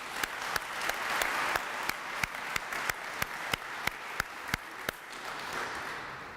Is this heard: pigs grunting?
no